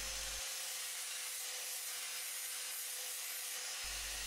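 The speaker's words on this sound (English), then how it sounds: "Just using a flap disc on the angle grinder, clean all the old paint and rust off it so it's nice and shiny." An angle grinder with a flap disc scours old paint and rust from a steel bash plate bracket for a Honda NC750X, a loud, steady, hissing abrasive roar sustained without a break.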